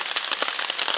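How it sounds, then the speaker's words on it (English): Rain patters on a tarp and backpack on the Appalachian Trail, a dense, steady hiss of fine drops with small crackles, close and even over a short stretch. "But I think the rain's about to stop."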